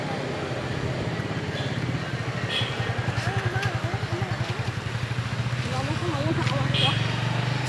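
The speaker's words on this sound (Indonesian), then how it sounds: "Oh, ada motor." A motorcycle engine chugs by on a street beside a food court, its pulsing throb growing and fading close by under general outdoor bustle.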